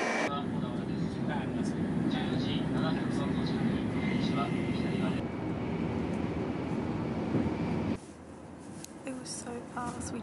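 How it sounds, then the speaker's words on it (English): A Japanese bullet train rushing past at high speed in Japan, a loud, sustained broadband roar of rushing air and wheels that stays strong for several seconds before dropping sharply to a quieter rumble. "There's the bullet train. It goes so fast when it goes off."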